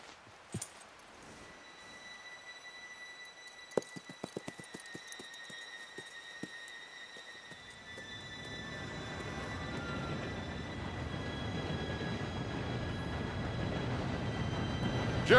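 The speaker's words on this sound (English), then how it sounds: "Train should be here any minute now" A train in Red Dead Redemption 2 approaches from a distance. A few sharp clicks sound over a quiet start, then the rumble swells into a loud, steady roar with a high, thin wheel squeal above it.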